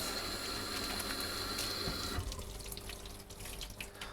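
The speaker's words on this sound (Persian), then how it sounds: "من این سیب زمینی ها رو میذارم توی آب سرد" Kitchen tap running cold water into a bowl of potatoes, a steady close rushing splash that changes tone midway as the water level rises.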